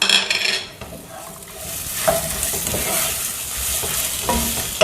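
Chopped large onions sizzle in a hot pan for araithu vitta sambar while a spoon stirs and scrapes now and then, the frying hiss continuous and close.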